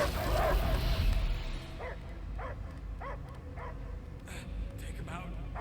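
In the Guardians of the Galaxy video game, a dog gives a rhythmic run of about eight short barks and yips at moderate distance over a low ambient background.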